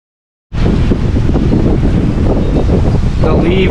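Strong wind gust of about 40 miles an hour hits suddenly after a moment of silence, a loud sustained roar buffeting the microphone with rustling underneath.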